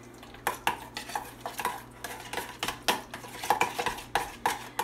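Chicken being mixed with seasoning, salt and ground black pepper in a bowl, a close series of irregular clinks and scrapes of a utensil against the dish, with no talking.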